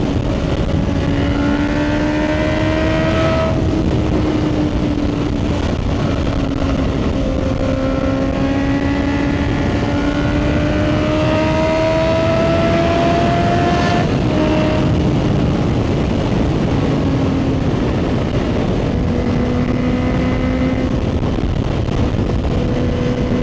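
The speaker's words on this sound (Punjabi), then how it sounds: "ਥੋੜ੍ਹਾ ਰਾਈਡ ਕਰਦੇ ਹਾਂ ਉੱਥੇ ਤੱਕ।" Aprilia RS660 sport motorcycle riding along a road in Canada, its engine droning loud and steady throughout with rising and falling revs as it accelerates and shifts.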